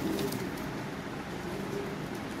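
Lahori pigeons coo in a loft, a low steady murmur of overlapping calls that runs throughout without pause.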